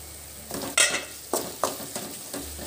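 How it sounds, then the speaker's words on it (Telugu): Ginger garlic paste sizzles in a pan for a Telugu-style fish curry, with several sharp scraping stirs of a spoon against the metal over a soft frying hiss, close and clear. "అల్లం వెల్లుల్లి పేస్ట్ కూడా వేసేసి బాగా కలిపేసుకొని మూత పెట్టుకొని పచ్చివాసన పోయేంత వరకు వేపేసుకోవాలి"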